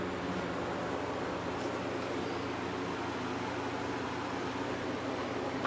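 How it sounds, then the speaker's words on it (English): A fan runs steadily in a garage or workshop, giving a constant broadband whoosh with a low hum underneath, unchanging and fairly quiet throughout, with no talking. "Sorry about the fan."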